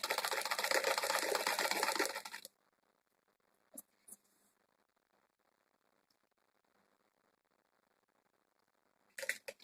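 A sewing machine stitches a cotton frock suit: a loud, fast, steady mechanical chatter for about two seconds, then quiet with a few faint clicks and a short burst of running at the end.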